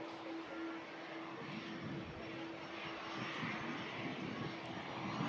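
A jet airliner with geared turbofan engines at Manchester Airport gives a steady, broad roar with a sustained whine, heard from some distance and fairly faint.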